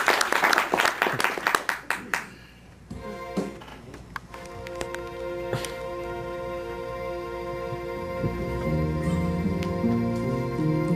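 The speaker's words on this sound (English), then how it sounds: "Let's get a round of applause." An audience claps in a short burst of applause for a comedy show that fades after about three seconds, giving way to sustained tonal music or sound.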